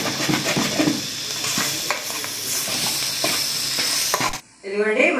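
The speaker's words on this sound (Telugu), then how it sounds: "ఈ అడుగులు ఉండే మసాలా ఇలా గీకుంటేనే అసలు చాలా టేస్టీగా ఉంటుంది" A spoon scrapes masala off the bottom of a pan of spicy mutton fry, with repeated rasping strokes over a steady sizzle close by, then a brief drop to near quiet before the scraping resumes.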